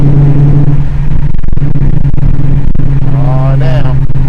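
A loud, low car engine rumbles close by in traffic, steady and throbbing throughout, with a brief rising rev near the end.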